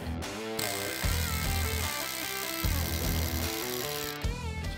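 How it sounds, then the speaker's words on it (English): A pneumatic air hammer vibrates a new axle out of a Ford Bronco during a Superlift install: loud, rapid buzzing hammering close by, running almost continuously with slight surges and no talk. "we're gonna grab our trusty air hammer and use a little vibration to walk the axle out"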